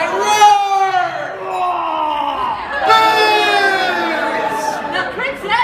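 An audience at a medieval faire stage show imitates a dragon's roar, many voices rising and falling together in long, wavering howls over a few seconds.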